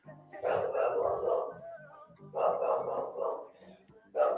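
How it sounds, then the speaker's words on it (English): Dogs bark in bursts of rapid, overlapping yips and woofs, pausing briefly before another round, moderately close. "you can hear the dogs barking in the background"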